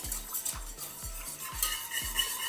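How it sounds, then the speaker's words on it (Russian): A utensil stirring egg yolks into milk in a bowl, regular rhythmic strokes about twice a second, each with a light clink against the sides, close and quiet without talk. "В молоко мы добавляем сразу же желтки и перемешиваем"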